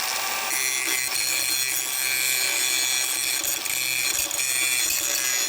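An angle grinder cuts into the rusted head of a frame bolt from below on a 20-year-old Ford SVT Lightning truck frame. The sound is a loud, continuous, high-pitched grinding whine that holds steady throughout, with no voices.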